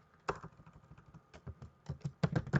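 Typing on a computer keyboard while writing HTML code, with quick irregular clusters of close, soft key clicks and a few louder taps toward the end.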